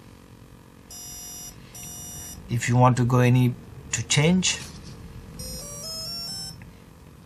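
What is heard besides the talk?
TowerPro MAG 8 ESC programming beeps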